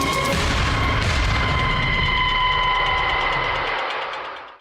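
A loud, deep explosion booms and then rolls out in a long rumbling roar that slowly fades away.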